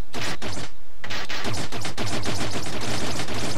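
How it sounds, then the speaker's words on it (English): Rapid gunfire from the Another World video game, a dense run of sharp repeated shots with a short pause near the start, loud and steady throughout. "I just run away and then shoot it."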